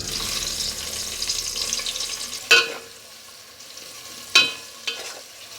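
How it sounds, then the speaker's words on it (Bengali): Sliced onion frying in oil with whole garam masala spices, a steady sizzle with a few sharp stirring scrapes near the end. "দিয়ে দিচ্ছি একটা বড় মাপের পেঁয়াজ কোচানো"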